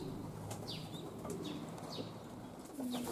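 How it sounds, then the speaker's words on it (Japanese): Young racing pigeons leaving the loft on a first outing make faint cooing and soft chirps over a steady outdoor hiss, with brief flutters of wingbeats scattered through, fairly distant and low in level. "出社直後の鳩たち元気よく高度を取りながら飛び始めてます"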